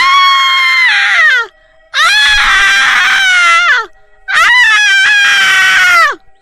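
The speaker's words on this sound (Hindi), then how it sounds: "चुड़ैल जोरों से चिल्लाने लगती है।" Loud, anguished screams of a witch in a Hindi horror story, three long wailing cries separated by brief pauses, each rising and then sliding downward in pitch.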